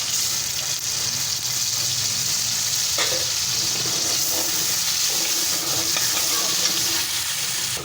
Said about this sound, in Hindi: अब इसमें हम टमाटर हरी मिर्चों का पेस्ट डालेंगे।